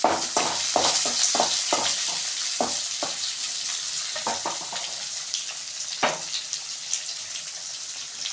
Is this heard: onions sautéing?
yes